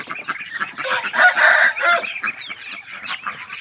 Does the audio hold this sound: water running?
no